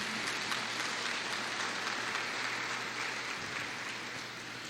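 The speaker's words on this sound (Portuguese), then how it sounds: "Aplaude o Senhor Jesus." Congregation clapping during a church service, a continuous broad rush of applause that stays steady and fairly distant before easing slightly toward the end.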